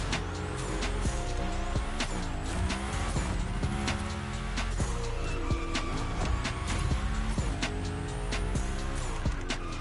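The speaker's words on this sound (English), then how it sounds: "the same 845 horsepower naturally aspirated V8 that was in the V1, and they just twin turboed it" Twin-turbocharged 845-horsepower V8 race car in The Crew Motorfest roars steadily with shifting engine pitch, loud and continuous, mixed with game music and tire squeal during drifting.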